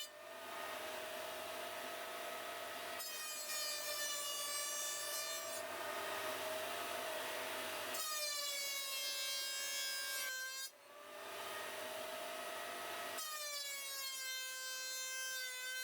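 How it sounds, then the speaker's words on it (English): A planer thicknesser feeds a wooden board through, its loud, steady machine whine running the whole time in alternating passes with sharp, ringing harmonic tones, briefly dipping near the end. "I'll now pass it through to planer thicknesser to clean up the surface"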